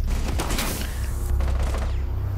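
Gunfire in the video game Rainbow Six Siege: a dense, continuous burst of rapid shots and booms over a noisy background, loud and close, with no talking.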